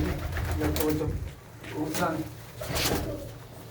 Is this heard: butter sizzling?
no